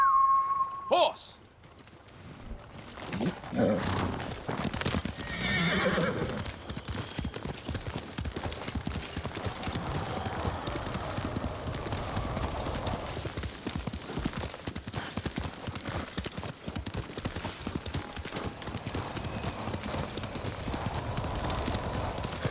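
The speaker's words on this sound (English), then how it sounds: "Horse!" Horse hooves clop steadily at a gallop in the game Ghost of Tsushima, after a brief whinny near the start, the rhythmic footfalls continuing over wind and ambient sound.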